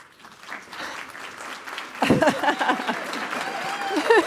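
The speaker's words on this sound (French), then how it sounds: "On peut l'applaudir." Audience applause at a philanthropy conference closing plenary, starting as a soft patter and swelling into fuller clapping, with a voice speaking over it partway through.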